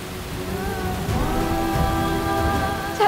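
Rain falls as a constant, fairly loud hiss with no breaks, mixed under sustained tonal background music.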